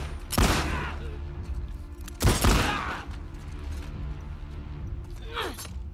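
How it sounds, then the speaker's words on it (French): Gunfire punching through walls in The Last of Us Part II, two sharp loud blasts a couple of seconds apart followed by a fainter crack later, over a low steady background hum. "Il tire à travers les murs."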